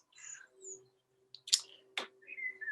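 Birds chirping in a forest: sparse, bright calls and short tweets come one after another with quiet gaps between them, over a faint steady hum.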